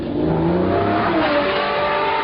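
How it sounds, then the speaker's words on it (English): A powerful Lamborghini Murcielago LP 640 engine roars steadily, its pitch climbing as it accelerates, heard loud and close from inside the car. "I'm just sat in a brand new LP 640 Murcielago driving along"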